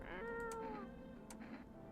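A cat meowing in a video game, one drawn-out, wavering meow that is close and clear, with no talk over it.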